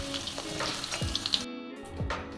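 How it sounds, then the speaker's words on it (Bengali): Potatoes fry in hot oil with a close, crackling sizzle and a few spatula scrapes, briefly cutting out midway before the sizzle returns; no one speaks. "আলুটা একটু লাল লাল করে ভেজে তুলে নেব"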